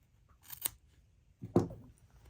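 Scissors snip yarn close to a knot while finishing a crocheted baby hat, giving two short, quiet, crisp cuts about a second apart in a still room.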